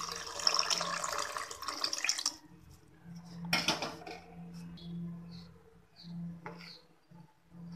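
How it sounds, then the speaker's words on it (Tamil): Tamarind water pours into dal rasam in a steady splashing stream for about two seconds, followed by quieter liquid trickles, a louder splash and scattered small kitchen clinks and taps. "கொஞ்சம் புளி தண்ணி ஊற்றி"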